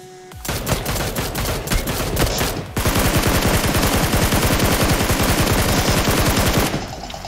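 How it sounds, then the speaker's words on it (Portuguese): Rapid automatic gunfire in PUBG, a fast steady burst of shots that intensifies into a dense, loud stream before cutting off. "Ele fica dando tiro e a gente não tá safe"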